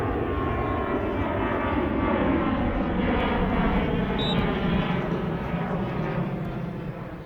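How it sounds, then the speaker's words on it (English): A fixed-wing airplane passes low over a junior football pitch near Dublin Airport, its loud, steady engine roar filling the whole stretch and fading slightly at the end. "We're right by Dublin Airport, so here it's not trains,"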